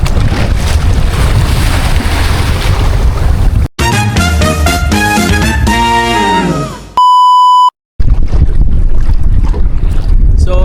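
Strong wind buffeting the microphone on a small fishing boat at sea, loud and roaring, cut by a brief musical interlude and a steady electronic beep.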